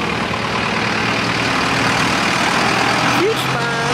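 A Vespa Primavera 125 scooter, Disney Mickey Mouse edition, runs steadily while being ridden, a loud continuous engine drone with wind noise throughout and a brief rising whine near the end.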